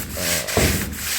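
Close, continuous abrasive rubbing as sealer is sanded by hand on a 1957 Chevrolet Bel Air car door, a steady scratchy hiss with one brief stroke change midway.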